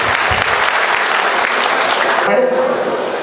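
Loud, dense applause from an assembly crowd fills the hall, then drops in intensity partway through as a voice briefly speaks.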